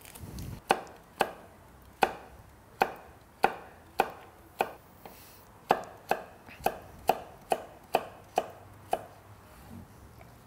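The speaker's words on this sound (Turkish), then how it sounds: "Havucu da doğrayalım." A knife chopping carrots on a cutting board while making creamy vegetable soup: about twenty sharp, crisp taps in an irregular steady rhythm, close and fairly quiet, with no talking.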